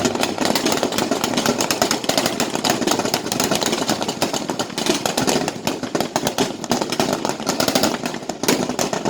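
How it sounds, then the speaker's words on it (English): A loud, continuous mechanical roar with a rough, throbbing texture from a twin-engine Bell helicopter approaching during a military exercise, steady throughout with no voices. "Now you can see the Visēsha helicopter approaching the area for special evacuation."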